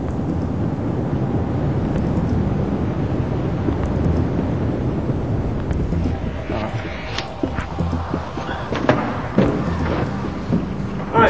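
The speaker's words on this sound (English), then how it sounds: "The wind is switched on, and Andrew Keynor gathers the results." Loud, steady roar of rushing air from a wind tunnel fan, a broad rumbling blast that continues throughout with some fluttering gusts near the end.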